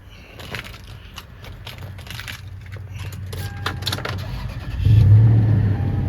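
A 2007 Toyota Sequoia Limited being started, with keys and cabin clicks first, then the engine cranking and catching into a loud, steady idle up close.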